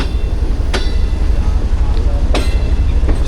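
A train passing on the Karachi to Lahore line, a loud close rumble of wheels on track with occasional sharp clanks, while a voice speaks over it.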